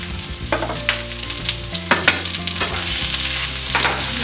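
Two large chopped onions with a piece of cardamom fry and sizzle steadily in a pan, the hiss continuous and close, with occasional scrapes and clinks of stirring.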